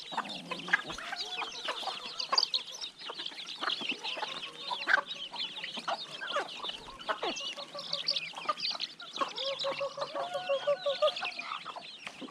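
Chickens clucking and chattering busily while being fed rice, a dense, close flock of overlapping clucks and calls continuing throughout, with no talking.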